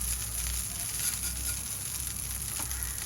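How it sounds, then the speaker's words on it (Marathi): Mustard seeds sizzling in a spoonful of hot oil in a pan, a steady close hiss with faint crackling pops, continuous and uninterrupted. "तेलावर आपण मोहरी घालूया."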